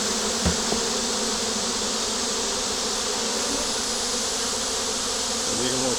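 A dense, steady buzz of many honeybees swarming close by outside a hive on a hot day, continuous and droning throughout with no talking.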